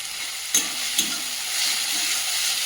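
Whole cardamom and cloves sizzle in hot oil with ginger-garlic paste for a meat curry, a steady close frying hiss broken by two sharp pops or taps.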